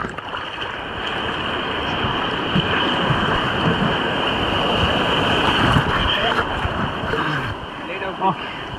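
Steady roar of ocean surf during a surfing session, a continuous broadband wash of breaking waves that fills the whole stretch, with faint voices now and then beneath it.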